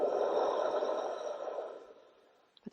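A strong Ujjayi yoga breath drawn through a constricted throat gives a close, steady breathy rush that fades away over about two seconds, followed by a couple of faint small sounds.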